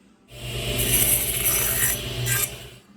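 A hand saw rasps through wood in one steady run of stroking cuts, with a stop clamped in place for repeated cuts of equal length during a truck camper build; it is close and moderately loud, with no talk.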